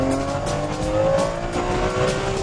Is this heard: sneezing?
no